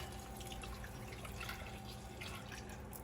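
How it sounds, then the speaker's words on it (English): Water pours steadily into a pot already holding milk, a soft continuous splashing and trickling close by, fairly quiet, with no voices. "And I'll put some water in there as well."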